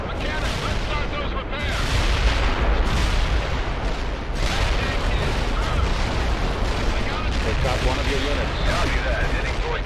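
Heavy artillery fire in the World in Conflict strategy game, dense rolling booms and blasts pounding continuously and loudly, with a voice talking over the barrage.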